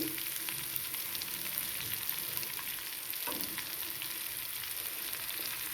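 Bitter gourd pieces, onions and fenugreek seeds frying in oil in a pan, a constant soft hiss of sizzling with faint occasional stirring, fairly quiet and continuous.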